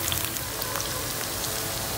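Green chillies, garlic and onion sizzle in about a quarter cup of oil, giving a dense, even crackle and spatter throughout with no pauses.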